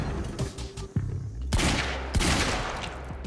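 Heavy pistol and shotgun fire during a Quantum Break firefight: several loud, sharp shots at irregular intervals, each followed by a ringing tail over ongoing combat noise.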